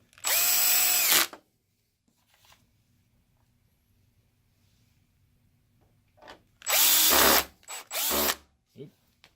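A power screwdriver drives long screws into a Mitsubishi WD720U-G DLP projector under repair, whirring in loud bursts of about a second each: one alone, then after a quiet pause two more in quick succession, with faint handling noises between.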